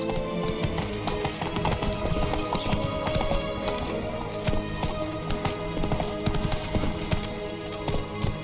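Horse galloping in The Witcher 3 video game: dense, rapid hoofbeats pounding continuously at close range, with game ambience and music layered underneath.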